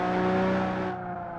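Racing car engine in the BeamNG video game holding a steady high-revving buzz, then easing off slightly near the end, with no talk.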